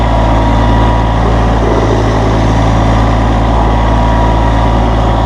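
A Massey Ferguson hydrostatic-transmission tractor engine roars close and loud, its dense steady drone holding throughout with only slight shifts in pitch.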